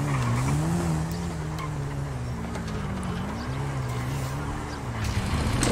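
A video-game motorbike doing wheelies, its engine droning steadily with wavering pitch and tires squealing and skidding near and loud, continuous throughout without talk.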